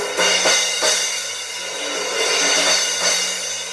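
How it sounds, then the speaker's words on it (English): Bright 16-inch Pearl PST5 medium crash cymbal crashes wash over one another in a continuous shimmering roar, with several struck accents and a faint low drum thud underneath. "16-inch PST5 medium crash sounds like this."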